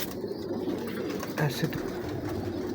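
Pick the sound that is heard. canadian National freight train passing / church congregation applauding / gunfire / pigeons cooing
pigeons cooing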